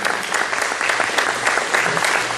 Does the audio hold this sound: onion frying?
no